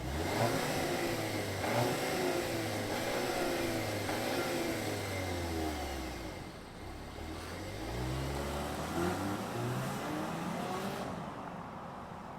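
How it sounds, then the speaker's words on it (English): A 2024 VW Atlas Cross Sport with a 4-cylinder turbo engine pulls away, its note climbing through several rising sweeps as it accelerates, then easing into a steadier drone. "let's fire it up and see this Volkswagen roll"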